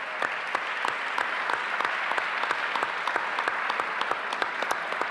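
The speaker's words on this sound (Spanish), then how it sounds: "para quien pedimos un fuerte aplauso." Steady applause from a large audience at an event marking forty years of democracy, dense continuous clapping with sharper individual claps standing out, sustained throughout.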